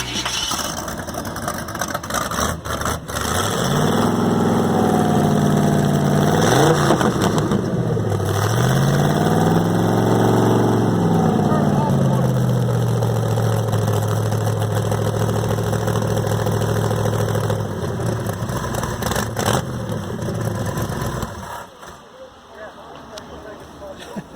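A carbureted classic car engine idles steadily at an outdoor car show, a continuous mid-pitched rumble with slight wavering in speed, running loud throughout before easing off near the end.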